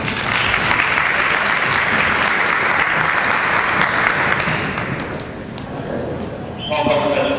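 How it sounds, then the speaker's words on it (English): A room of people at a city chamber event applauds steadily for several seconds, the clapping thinning near the end as a voice begins speaking. "Please give Dana a hand of applause."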